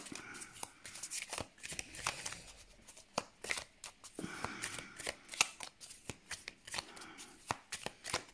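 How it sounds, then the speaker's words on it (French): A deck of tarot cards being shuffled by hand, a rapid run of crisp riffling flicks and soft slaps repeating in quick bursts at close range, with no talking. "on va d'abord battre le jeu"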